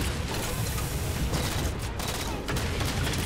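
A big gun in the Halo 4 video game fires in a sustained, heavy volley, mixed with mechanical clatter. The gunfire is loud and dense throughout.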